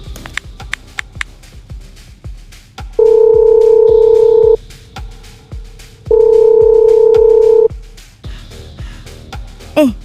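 A telephone call is placed with a ringback pattern: two long steady tones of about one and a half seconds each, separated by a pause, with soft clicks and taps around them, close and fairly loud.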